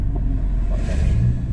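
A Volkswagen Golf GTI engine gives a brief, loud, deep rumbling rev up close, lasting just over a second with no talking.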